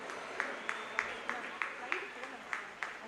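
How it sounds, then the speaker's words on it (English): Schoolchildren at an annual day function give a former student, now a doctor, a round of applause heard as a fairly faint, evenly spaced series of claps with a soft voice beneath them. "Give her a good round of applause"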